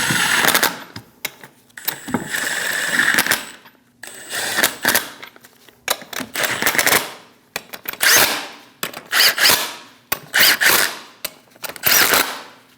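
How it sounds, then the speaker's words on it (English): A power tool on a Chevrolet Express wheel runs lug nuts down in repeated loud, close bursts of whirring and rattling impacts, separated by short pauses. "Snug the nuts down."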